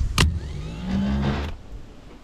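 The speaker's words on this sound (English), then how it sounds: "to energize the solenoid, we just want to put power from here across to here" A Massey Ferguson tractor starter motor, out for repair, has its solenoid energized by bridging the terminals with a screwdriver. A sharp click is followed by about a second of close mechanical whirring as the gear engages, which then cuts off.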